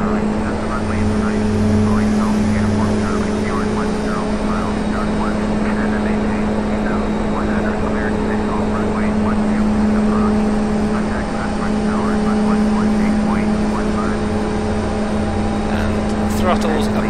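Twin turboprop engines of a DHC-6 Twin Otter at raised throttle in the flight simulator FSX, a steady loud drone with a constant tonal hum, heard under a voice.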